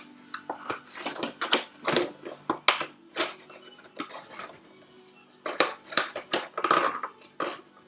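Scissors snipping the ends off a plastic milk bottle, a series of short crisp cuts and crinkling plastic snaps at an uneven pace, close and moderately loud, with a brief pause midway before another burst of cuts.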